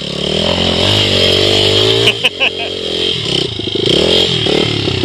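A 2005 Honda CRF80F dirt bike rides off-road, its small engine revving loud and close with a rising and falling whine, with clatter and a jolt midway and a voice shouting over it.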